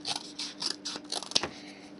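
Plastic sheet for a model vehicle's engine case being cut with quick, close snipping strokes, a run of sharp crisp cuts in an irregular rhythm.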